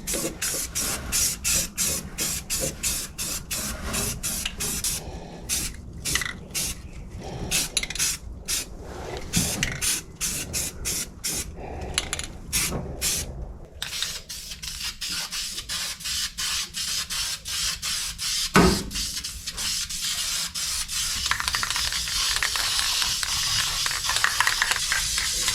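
An aerosol can sprays a heavy second coat of primer inside a car engine bay, its hiss coming in rapid bursts, then settling into longer, continuous passes, close and loud with no talk.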